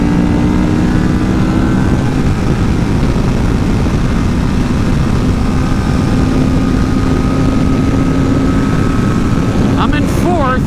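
Kawasaki Ninja 650 motorcycle accelerating at speed: a steady, loud engine drone mixed with rushing wind noise from onboard, the pitch climbing gradually, with a brief shift near the end.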